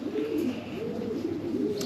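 A racing pigeon coos close by in soft, rhythmic rolling calls, three repeated phrases in quick succession with no talk over them.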